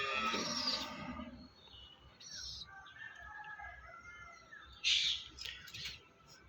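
Andhra Kalanka pigeons in a loft give faint, scattered calls and chirpy bursts, soft and somewhat distant, with quiet gaps between them.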